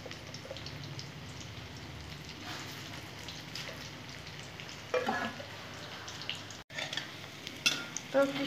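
Fritters made with Gobindobhog rice paste fry crisp in hot oil, giving a steady close crackling sizzle throughout, with a few louder bursts of spattering and stirring toward the end.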